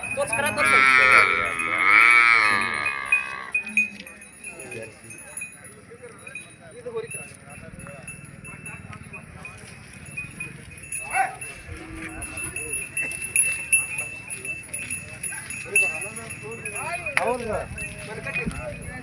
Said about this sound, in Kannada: ಸ್ಪೆಷಲ್ ಜಾನುವಾರು ಮಾರ್ಕೆಟ್ಗೆ